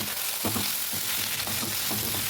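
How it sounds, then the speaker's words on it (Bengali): Tomato, peas and onion fry in a pan for a fish ghonto, a continuous close sizzle with rhythmic scraping of a spatula stirring through the mixture, no voices. "টমেটোটা দিয়ে দিলাম এবং মটরশুঁটিটাও দিয়ে দিলাম দিয়ে আবারও বেশ কিছুক্ষণ আমি নাড়তে থাকবো"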